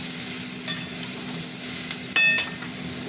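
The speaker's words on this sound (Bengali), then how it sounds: "ভাজা ভাজা হোক" Pointed gourd and potato curry with yogurt and mustard fries in a pan, a steady low sizzle broken by a few sharp scrapes and clinks of a spoon stirring against the pan.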